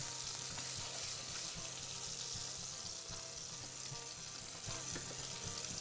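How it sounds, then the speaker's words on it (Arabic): Garlic frying in a pan fills the space with a steady, broadband hiss, close and continuous, with faint clinks from a utensil underneath. "هلا عم نحمرها"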